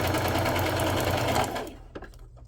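Sewing machine running a straight stitch along a fabric corner, a fast steady mechanical chatter for about a second and a half, then stopping, followed by a few faint clicks.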